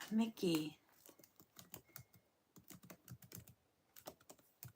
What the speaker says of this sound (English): I'll type it in.